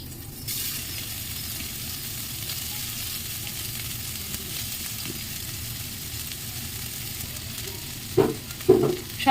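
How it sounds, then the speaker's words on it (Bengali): Soybean chunks dropped into hot oil in a pan for a vegetarian potato and soybean dish, a steady close sizzle and crackle with a few sharper spatters toward the end. "এবারে তেলের পরে সবিনগুলো সব দিয়ে দেবো এক এক করে"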